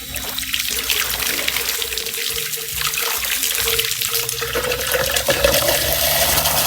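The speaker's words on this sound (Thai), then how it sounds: "ล้างแก้วแค่ล้างแก้วไม่ต้องตามมา" Running tap water splashes steadily into a sink while a glass is rinsed, a continuous close hiss and gurgle with a few faint voices under it.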